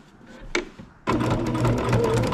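Baby Lock Jazz II sewing machine stitching through a quilt, starting after a brief quiet pause with a sharp click, then running steadily and loudly at close range.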